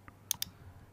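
A computer mouse gives one faint click followed by two sharper clicks in quick succession, close and quiet in a still room.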